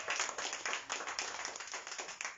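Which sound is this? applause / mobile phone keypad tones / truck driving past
applause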